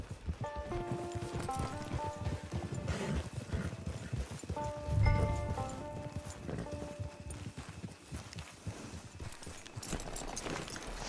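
Horse hooves clip-clop at a steady walking pace in the Red Dead Redemption 2 online game. Game music plays throughout, and no one speaks.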